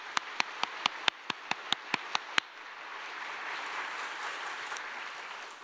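A church congregation claps after a hymn at a pastor's installation service: a run of about ten evenly spaced, sharp claps, then a softer, steady wash of diffuse crowd noise.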